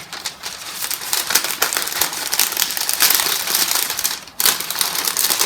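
Aluminum foil and parchment paper are folded into a cooking bag for gnocchi, giving a close, loud run of crinkling and crumpling with sharp crackles throughout and a brief pause near the end.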